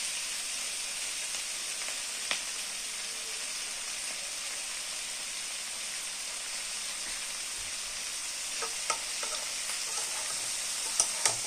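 Capsicum frying in a pan for chilli paneer gives a steady, dense sizzle throughout, close and even, with a few faint clinks near the end.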